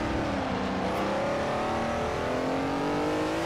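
An MGB race car engine drones in a racing video game set at the 1967 Daytona Continental, its steady rising whine climbing gradually in pitch as the car accelerates, loud and continuous with no talk.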